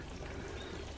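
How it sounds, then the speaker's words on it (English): Water poured onto compost around freshly planted first early potatoes in a garden, a steady close splashing and trickling flow lasting about a second with no voices. "if you pour plenty of water on them"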